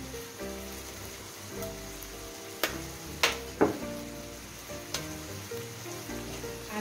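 Chicken liver sears in a hot pan with a steady, even sizzle. A few sharp clinks and scrapes of turning sound close by, and no one speaks.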